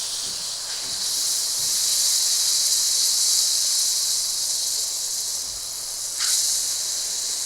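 Hot milk, just at the point of boiling up, poured slowly into roasted semolina for sojji appam, making a loud, continuous steamy hiss that swells in the middle, with a brief sharper burst near the end and no speech.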